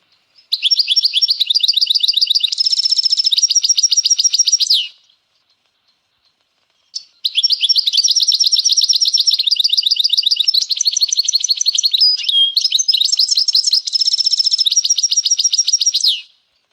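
A Malinois canary sings bright, rapid high-pitched trills and warbles in two long bursts separated by a short silence, close and clear.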